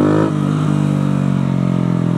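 A Yamaha YZF 125 four-stroke motorcycle engine drones loud and close, a steady buzzing note with a slight dip in pitch early on, then holding even throughout.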